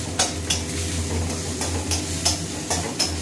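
Ginger paste and spices stirred in a pan, a low, steady sizzle marked by regular spatula scrapes roughly every half second, with a constant hum of a stove or fan in the background.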